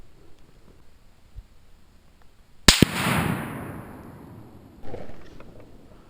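A single loud rifle shot from a Mossberg Patriot 30-06 firing Winchester 180gr Power-Point ammunition, a sharp crack followed by a long rolling decay, with a quieter thump a couple of seconds later and no talking.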